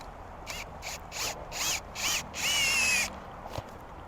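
A drill drives a tent stake at an angle into the ground outdoors, in several short close whirring bursts followed by one longer run.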